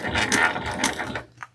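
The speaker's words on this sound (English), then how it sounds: "we're going to slowly and steady top stitch" A sewing machine topstitching a crossbody bag, heard as a quick burst of mechanical clatter for just over a second, fairly close, then a brief click before it falls quiet.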